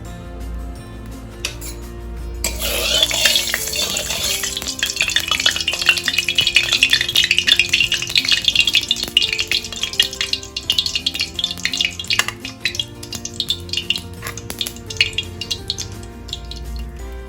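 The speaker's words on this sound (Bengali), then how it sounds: "তেল দেব, পরিমাণ মতো তেল দেবো মাছটা ভাজার জন্য।" Fish frying in hot oil in a home kitchen pan: a loud, steady crackling sizzle starts abruptly after a quiet moment and continues close up throughout, with occasional light clinks of utensils and no talking.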